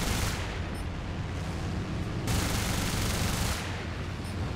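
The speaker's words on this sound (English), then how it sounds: "German low-caliber machine guns don't inflict plenty of damage, that's for sure." Dense machine gun fire in the air-combat game War Thunder, German low-caliber guns rattling in continuous loud bursts over engine roar, with a short break in the middle before firing resumes.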